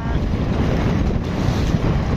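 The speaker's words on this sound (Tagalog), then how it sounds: "At malakas na naman yung hangin amihan." Strong, steady northeast monsoon (amihan) wind roars across the microphone at sea, a dense unbroken rush with water churning underneath and no talking.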